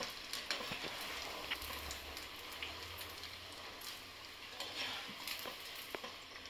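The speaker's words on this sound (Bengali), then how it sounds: "তেল গরম হয়ে গেছে, তাই একটা আগে বানিয়ে একটু ভেজে নিচ্ছি।" Potato pakoras without onion frying in hot oil, a continuous faint crackling sizzle with scattered pops, heard alone at low volume.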